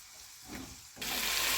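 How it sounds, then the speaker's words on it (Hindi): Ground spices fried in oil on a medium flame for Lahori fish masala, a faint soft sizzle with a light stir that jumps suddenly to a louder, steady hiss. "अब मसालों को हल्का सा भूनेंगे"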